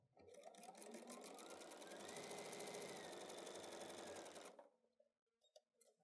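A sewing machine runs a quarter-inch seam in fabric, stitching at a fast steady rhythm for about four seconds, close and clear, before stopping.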